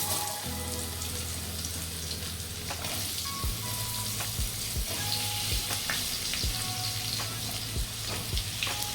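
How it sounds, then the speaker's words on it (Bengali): Potatoes fry in oil in a pan for a katla fish curry, making a loud, continuous sizzle with crackles, and stirring taps and clinks recurring throughout, close and with no talk. "আলুগুলো একটু ভেজে নেব।"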